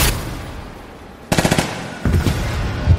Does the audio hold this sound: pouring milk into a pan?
no